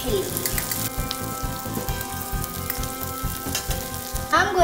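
Garlic and two red chilies fry in oil for a momo dipping sauce, giving a steady close sizzle with a rain-like patter. A few scraping stirs come through near the end.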